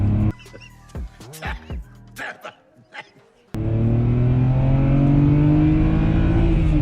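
After some scattered short sounds, a 230-horsepower BMW engine surges in and revs steadily higher, a loud sustained acceleration drone that keeps climbing.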